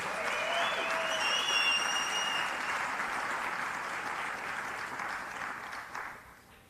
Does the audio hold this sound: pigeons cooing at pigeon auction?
no